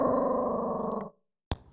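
A dog growls low and rumbling in an audio adventure game built in Godot, one sustained growl of about a second that cuts off, followed by a short sharp sound, with no talk.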